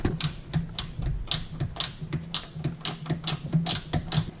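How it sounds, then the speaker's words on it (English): Ratcheting wrench working loose a 10 mm bracket bolt on a 1990 Mazda Miata 1.6L, a steady run of rapid, close clicks repeating every fraction of a second with no talk. "Just get a wrench on that and bust that loose."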